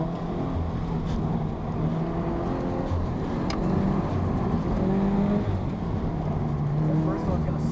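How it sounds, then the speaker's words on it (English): A Toyota 86 on an autocross course, its engine a steady broadband drone throughout with a few brief louder swells, while people talk over it. "going out for the first laps in the 86"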